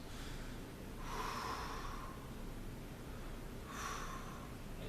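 Two slow, deep breaths drawn during a yoga pose, each a broad airy rush lasting about a second, close and clear over a steady low room hiss.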